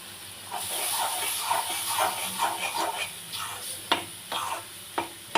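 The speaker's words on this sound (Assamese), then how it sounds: "এয়া চাওক পানী দিছোঁ। অলপ অলপকৈ দিব পানী।" Water poured into a hot pan while cooking maida halwa, a loud steamy hiss and sizzle with bubbling and scattered clinks of stirring, close up and without talk.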